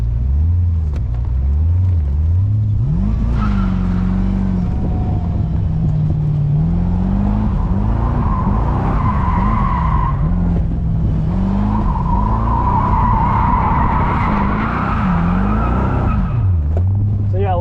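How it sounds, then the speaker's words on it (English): A twin turbo Callaway Corvette drifts with a loud, continuous engine drone rising and falling with throttle, while sliding tires squeal and screech over it; people talk throughout. "then just keep on throttle, and it'll start to slide"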